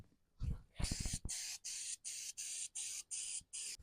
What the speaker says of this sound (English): we're just going to spray some nice solid coat on here